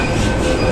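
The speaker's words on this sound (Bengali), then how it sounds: "আমরা এখন রয়েছি দিল্লি মেট্রো স্টেশনে" A Delhi Metro train at a station, a loud, close, continuous rumble of wheels and carriages with a high squealing tone running through it.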